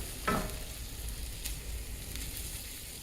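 Beans, ground beef and green chilies get stirred in a skillet for a taco dish, opening with one sharp scrape of the utensil and then a steady low sizzle, close and without speech.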